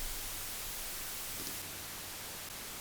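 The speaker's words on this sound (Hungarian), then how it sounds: "Újfent meghallgatjuk a fehér zajt." Steady broadband white noise hiss played back from a Maxell cassette tape without Dolby noise reduction, continuous and even for the whole stretch with no other sounds.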